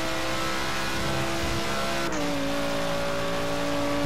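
A car engine in Forza Horizon 3 holds a loud, steady high-pitched whine, then its pitch drops abruptly as it shifts, continuing as a sustained engine drone.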